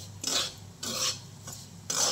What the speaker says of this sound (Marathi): रवा टाकला आता कढईत भाजायला